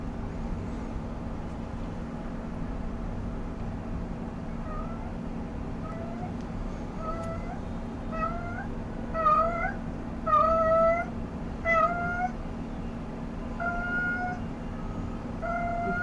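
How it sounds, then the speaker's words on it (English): A cat meows repeatedly in the background, a string of rising, plaintive calls that grows louder and more insistent midway over a steady low room hum, with no speech. "Can you hear the cat?"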